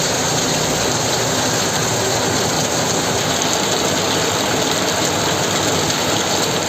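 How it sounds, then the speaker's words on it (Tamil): Heavy rain pours in a loud, unbroken roar of dense hiss, as if the microphone were right in the downpour, with no voices. "சித்தோடு, சோலார், கனிராவுத்தர்குளம் உள்ளிட்ட பல்வேறு பகுதிகளில் கனமழை கொட்டி தீர்த்தது"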